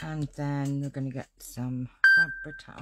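A phone beeps once, a sharp steady electronic tone cutting in over someone talking during a craft session, briefly overlapping her speech.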